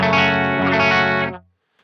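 An electric guitar's bridge humbucker played through a Laney VH100R amp rings out as one distorted chord that sustains for over a second and then cuts off abruptly, loud and alone.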